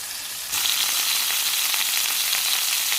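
Wagyu and Angus top sirloin steaks fry in a hot pan, a steady loud crackling sizzle that jumps up sharply after a quieter first half-second and then holds constant, close and alone with no talking.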